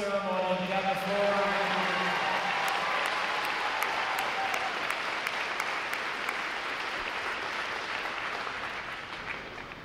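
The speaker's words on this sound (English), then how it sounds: "How about one more round of applause for this great ceremony?" A crowd at a U.S. Navy Recruit Training Command graduation ceremony breaks into loud, sustained applause, with the last words of an amplified voice at the start, and the clapping slowly fading toward the end.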